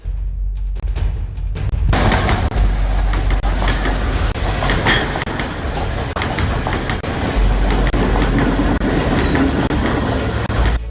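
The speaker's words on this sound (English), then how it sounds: "Today, a freight train operated from the China harbour to Sidua as part of this reopening." Freight train running on a reopened railway line from China harbour, rumbling loudly and close with steady wheel clatter and rattling wagons for the full length, after a short quieter approach at the start.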